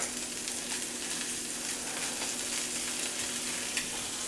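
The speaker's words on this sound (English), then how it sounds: "I'm gonna get these on my little pan, cook them up" Turkey burger patties fry steadily in a small pan, a continuous close crackling sizzle with occasional sharper pops, no talking over it.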